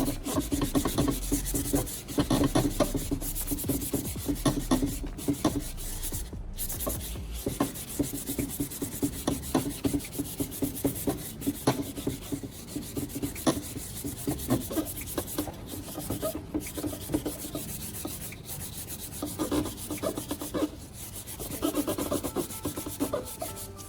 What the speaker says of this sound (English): I'm moving on to P600 fine sandpaper to continue sanding.